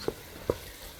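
Salt is stirred into onions and carrots frying in a pan, with two soft scraping strokes of the spoon over a faint sizzle.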